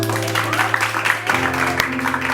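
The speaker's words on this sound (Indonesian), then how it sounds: "Kasih tepuk tangan dulu dong" A television studio audience applauds on a gossip talk show, a steady patter of clapping held at an even level under a faint background hum, with a brief sharp knock near the end.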